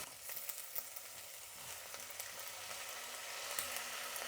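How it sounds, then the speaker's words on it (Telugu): Onions, potatoes and soaked dried peas frying in oil in a pan, giving a steady close crackling sizzle that runs throughout with occasional stirring scrapes, no voices. "ఇప్పుడు కూరగాయలు వేసుకుందాము. అలానే ఉర్లగడ్డ బఠానీ కూడా వేసేద్దామండి."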